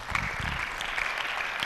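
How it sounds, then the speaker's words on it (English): Short burst of steady audience applause at a university reading competition, even and moderately loud with a few sharper claps standing out. "A round of applause"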